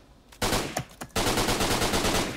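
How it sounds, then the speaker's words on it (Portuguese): Rapid automatic gunfire rattles out in the shooter game Line of Sight: a few single shots, then a dense, loud, continuous burst. "vem tiro pra cacete, velho"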